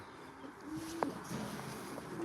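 Racing pigeons in a loft give a few soft, low coos with one brief louder call near the middle, set against a steady background hum and rustle.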